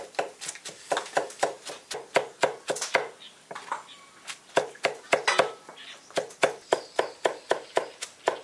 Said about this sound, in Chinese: 把大蒜剁细一点。